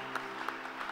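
Faint, sparse applause from a congregation at a church service, a few scattered claps over a soft steady background hum.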